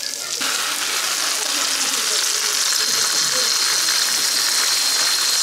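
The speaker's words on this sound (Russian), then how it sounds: "Так, жарятся баклажанчики." Eggplant slices frying in a pan give a steady, dense sizzle and crackle that starts abruptly and runs on evenly and close, with no voices over it.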